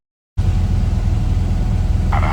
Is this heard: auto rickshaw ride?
yes